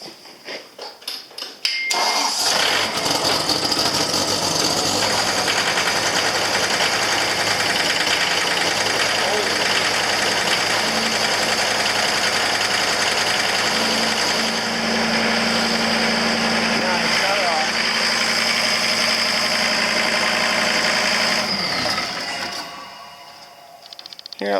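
A John Deere CT332 compact track loader's small turbocharged diesel engine cranks, catches and settles into a loud steady idle for about twenty seconds, then shuts down.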